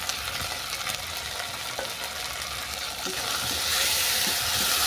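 Ginger-garlic paste, onion and grated tomato masala frying in a pan for a fenugreek curry, a steady broadband sizzle with occasional stirring scrapes, growing slightly louder and brighter toward the end, no voices.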